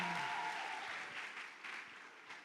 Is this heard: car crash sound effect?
no